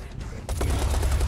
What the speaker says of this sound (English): The sniper has a beat on me.